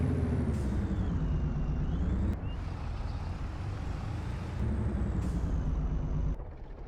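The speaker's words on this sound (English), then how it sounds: "It's kind of generic truck sounding, I guess. But it certainly doesn't struggle with the trailer." A truck pulling a loaded trailer on a farm rumbles steadily nearby, its engine droning loud and continuous with sharp hisses of air brakes releasing at intervals.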